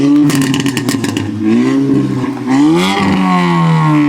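A VW Golf R or GTI engine revs loudly and close by. The roar climbs and drops in pitch over several blips, with a clattery burble early on.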